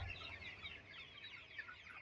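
Hens on a poultry farm, where the birds peck at one another, cluck in a faint, continuous chorus with no talking over it.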